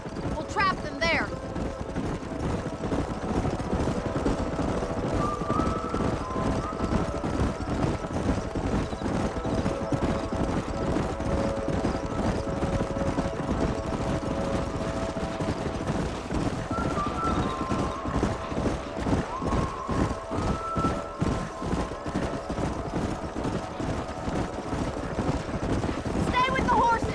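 Several horses galloping in Red Dead Redemption, hooves pounding in a fast, steady clip-clop rhythm throughout, with a brief whinny and some wind, and spoken voices over the hoofbeats.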